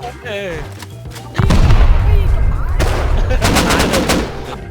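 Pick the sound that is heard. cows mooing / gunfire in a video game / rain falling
gunfire in a video game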